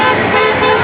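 A car horn blares at a Johnson C. Smith Honk for Justice protest, one loud, steady, unbroken toot held for just under a second, close and alone.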